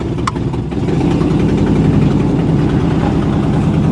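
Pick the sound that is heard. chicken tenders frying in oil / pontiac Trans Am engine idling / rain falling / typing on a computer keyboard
pontiac Trans Am engine idling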